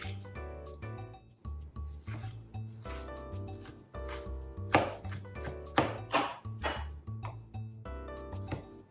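Quick, steady knife chops on fresh herbs on a cutting board, repeated many times in short bursts, with strong low thumps under each run of cuts.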